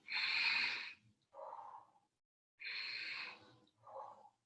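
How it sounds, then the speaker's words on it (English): Slow, deep breathing during a calming qigong and yoga practice: two full cycles of a long airy inhale followed by a softer exhale, close to the microphone, with a short silence between breaths. "Inhaling and exhaling."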